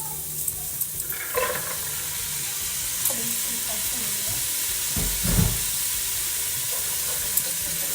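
White beans, drained after a full day of soaking, stirred and turned in a pot with frying ingredients, giving a steady sizzle and soft scraping under occasional clinks, with no talk.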